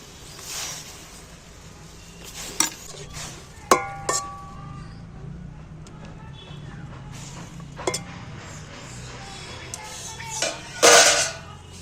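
A cooking pot being set down and covered on a stove while orange peels simmer in water, scattered metallic clinks and knocks of varying loudness, with a sharper clatter near the end and a voice talking quietly beneath.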